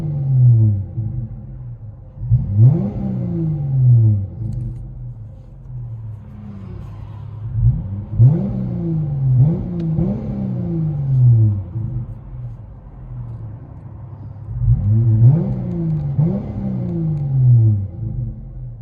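From inside the cabin, a Dodge Challenger V6 with knockoff Flowmaster race mufflers and a rear delete is revved in three pairs of blips. The exhaust sounds muffled and boomy over a low, steady idle.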